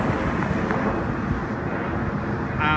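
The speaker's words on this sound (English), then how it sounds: "air traffic, like that airplane, and the sound." A steady, broad engine roar like an airplane passing overhead, constant and fairly loud throughout with wind-like rumble underneath.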